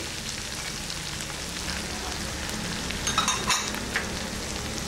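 Curry leaves, ginger and garlic fry with spices in a pan for an ivy gourd curry, a steady close sizzle and crackle with a brief burst of stirring partway through, no voices.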